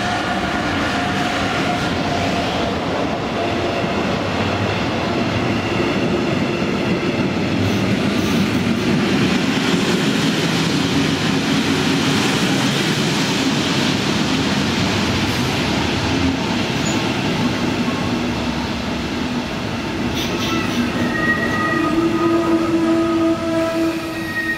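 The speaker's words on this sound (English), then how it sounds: "223067 arrives with a train from Lindau and Oberstdorf" A Class 223 diesel locomotive, 223067, rolls into München in the evening hauling a passenger train from Lindau and Oberstdorf, its loud engine rumble and rail noise continuous and close, with faint squeals and tones near the end.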